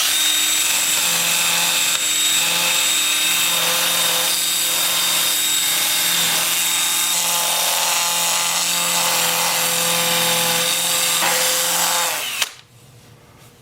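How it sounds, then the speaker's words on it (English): A 2-inch disc sander works against sassafras turning on a spinning lathe, giving a loud, steady whirring grind with a tonal motor whine for about twelve seconds before it abruptly stops. "I'll also be using my old standby 2-inch disc sander"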